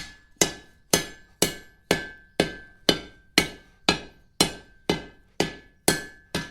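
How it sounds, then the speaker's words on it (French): An art blacksmith's hammer strikes hot iron in a regular rhythm, about a dozen sharp ringing blows each fading quickly, close and loud with no talk. "combien de coups de marteau il peut être donné pour faire un noyau"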